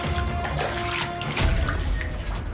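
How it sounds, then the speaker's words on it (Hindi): Rainwater floods into homes in Muktsar, Punjab, after heavy rain, heard as close, continuous trickling and splashing water with small spatters, fairly faint and without any talk. "वहां के लोगों के घरों में बारिश का पानी घुस गया।"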